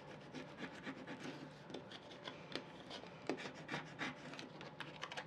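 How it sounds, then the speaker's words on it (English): A Cricut scraper tool rubs Oracal 651 white vinyl onto a jar label. The quiet, close scratching comes in quick repeated strokes. "So I'm just going to use my Cricut scraper tool to just really"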